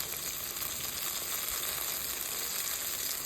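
Cabbage kofta frying in oil makes a dense, unbroken sizzle, loud and close, with faint bubbling and no voices over the full stretch.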